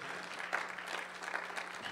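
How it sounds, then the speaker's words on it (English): A church congregation claps as a hand clap of praise, a dense, steady patter of many hands at moderate distance, fairly quiet and continuous through the moment. "Give God a hand clap of praise."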